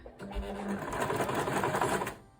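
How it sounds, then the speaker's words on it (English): A sewing machine stitches along the bottom edge of a zippered makeup bag, a close, steady rapid mechanical whirr that runs continuously and then stops. "I'm going to sew along this bottom edge."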